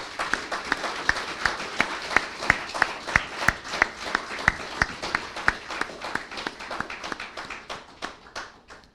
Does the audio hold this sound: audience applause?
yes